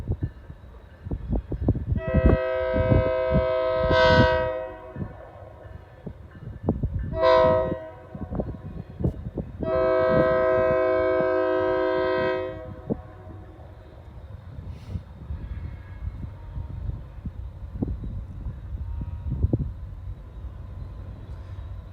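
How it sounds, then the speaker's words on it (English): A freight train on a rail line sounds several loud horn blasts as it approaches, then rumbles and clatters past outdoors with wind noise on the mic. "And here comes the train."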